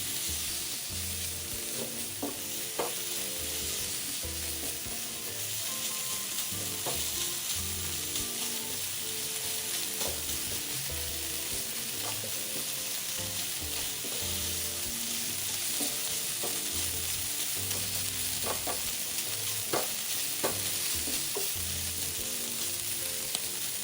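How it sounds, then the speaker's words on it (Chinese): Minced pork stir-frying in a wok with oyster sauce, light and dark soy sauce and pepper, giving a steady sizzle broken by repeated scraping and clanking of a spatula, with no talk. "1大匙蚝油，将调味料与肉末一起炒匀。"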